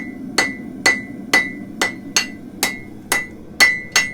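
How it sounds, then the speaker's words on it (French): A hammer repeatedly strikes hot metal on an anvil while drawing out a forged hoof pick: nine evenly spaced, ringing blows about half a second apart, close and loud. "le marteau tombe toujours au même endroit"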